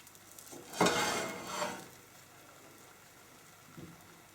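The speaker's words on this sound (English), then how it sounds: "There is a slight sizzle but not too much." A soft sizzle as pancake batter hits a hot frying pan, with a brief scraping stir as a spoon spreads it, then quiet background hiss.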